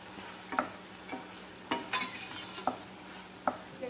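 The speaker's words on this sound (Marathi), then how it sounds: "इथे अदिती टाकत आहे पास्ता." Pasta goes into a hot pan and is stirred, a soft sizzle under several sharp scrapes and clinks of a utensil against the pan at an uneven rhythm, close and fairly quiet.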